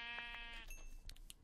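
A sheep in the video game Minecraft gives a short wavering bleat, followed by a few faint clicks and soft game noises, quiet overall.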